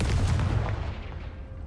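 A Confringo blasting spell explosion in the Hogwarts Legacy video game: one loud, close booming blast that rolls off and fades into a dull rumble.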